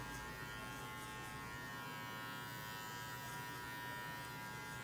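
An electric hair clipper buzzing steadily at close range while cutting a men's fade haircut, a constant whirring drone with no pauses.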